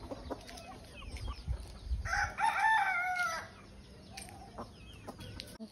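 Native country chickens cluck nearby, and a rooster gives one loud drawn-out crow in the middle, with scattered clucks continuing before and after in an outdoor yard.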